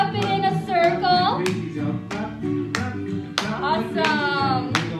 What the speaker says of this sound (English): Can you clap it in a circle?